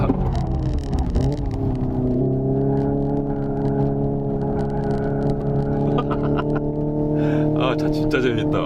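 Hyundai Ioniq 5 N electric car accelerating through manual gear shifts, a loud steady synthetic engine-like drone with stacked harmonic tones that climb gradually and step at shifts, running continuously near and in front throughout.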